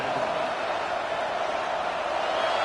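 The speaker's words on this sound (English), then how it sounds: "And here comes the noise. This crowd is trying to inspire this defense to make a big red zone stop." A football stadium crowd at a Washington at Michigan game roars steadily to push the defense toward a red zone stop, a dense, loud wall of cheering without pause.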